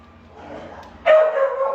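Dogs at a rescue site burst into loud, close barking and whining after a quiet, murmuring lead-in.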